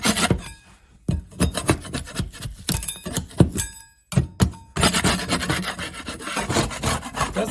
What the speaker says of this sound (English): I'm just going to take a scraper and scrape off all the loose material.